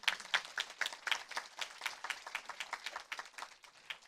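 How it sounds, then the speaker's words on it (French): Audience in a conference room applauding at a round-table event, a brisk, moderately close patter of hand claps with individual claps standing out, steady for about four seconds with no voices on top. "et on peut l'applaudir"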